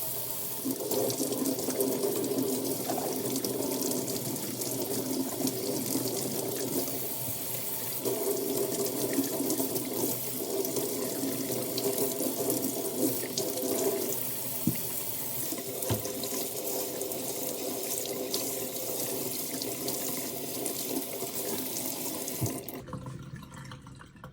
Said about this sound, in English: with cold water, we're going to gently scrub each of our ingredients